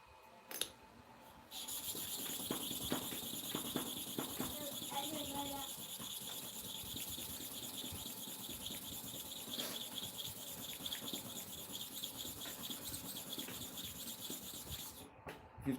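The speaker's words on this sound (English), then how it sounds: "We are going to sharpen it correctly." Clipper blades being sharpened, with a steady gritty rubbing and filing rasp running continuously at close range, rising in bursts and carrying on for most of the stretch without any talk.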